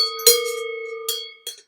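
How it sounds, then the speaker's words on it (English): An embroidered cowbell with a gold clip, shaken three times, each clank ringing out with a bright metallic tone that fades before the next, close and loud with no voices. "this would be around the neck of a cow."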